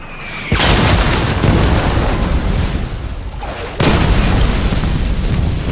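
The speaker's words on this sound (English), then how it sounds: "the Germans open fire" German gunfire and explosions strike American jeeps and ammunition loads in a wartime battle, heard as loud, dense booming blasts with a sharp burst near the start and another heavy detonation midway, roaring continuously.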